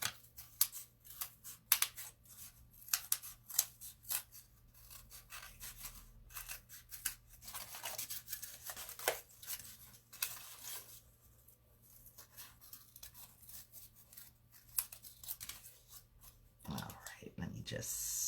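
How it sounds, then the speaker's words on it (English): Scissors snip through craft material for rustic Valentine wall decor, a long run of quick close crisp cuts in irregular bursts, with a voice talking softly between them. "snip that off a little bit right there."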